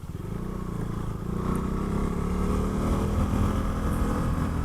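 An adventure motorcycle engine running on wider, taller tires, a steady low drone that rises slightly in level after the first second and holds, heard from the rider's position without speech.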